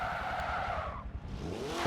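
In Forza Motorsport 7, a front-wheel-drive car brakes hard and its tires squeal and skid loudly, a tonal screech that wavers and fades, then comes back over a low engine hum.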